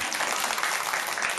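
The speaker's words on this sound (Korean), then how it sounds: "그럼 박수 한번 쳐야지." Brief burst of audience clapping at a Buddhist dharma lecture, a dense steady patter of many hands, moderately loud and continuous throughout, with a faint trace of voice.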